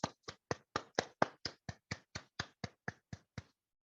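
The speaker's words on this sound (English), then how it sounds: "So let us give a round of applause to our Toastmaster of the day, April Gillis." Fourteen crisp, evenly spaced claps from online meeting participants, isolated and sharp like hands close to a microphone, then silence.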